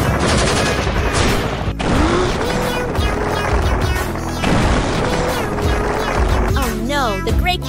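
Artillery gunfire attacks a train in an animated cat cartoon: heavy bursts of rapid shots and booms pound on continuously, mixed with swooping, tonal effect sounds.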